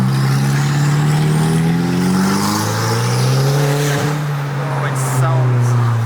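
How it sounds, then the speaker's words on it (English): A car with a blowing exhaust holds a loud, steady, droning engine note that swells slightly as it revs, close by and continuous throughout. "Let's get some reactions to your blowing exhaust."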